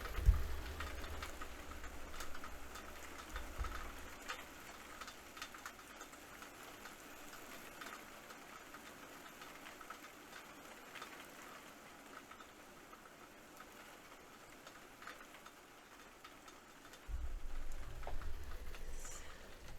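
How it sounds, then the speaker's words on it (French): Rain patters steadily on a Velux roof window indoors, a faint continuous hiss with a low rumble at the start and again near the end. "Je vous laisse le petit moment de pluie."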